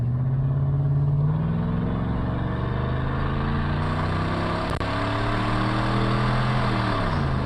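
A car engine with its muffler cut out idles with a deep, throaty, steady rumble, close and loud throughout, with a slight shift in pitch partway through.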